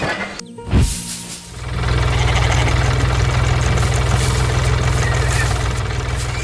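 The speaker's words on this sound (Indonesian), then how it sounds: "Traktor merah bersama mesin pengumpul jerami sedang bekerja keras." A red tractor pulling a hay-collecting machine works a yellow hay field, its engine settling after a brief thump into a steady, loud, low droning hum that continues unbroken to the end.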